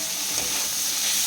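Capsicum hits a pan of frying mixed vegetables for a Bengali mixed bhaja, giving a steady, close, dense sizzle with a constant bright hiss and no talk.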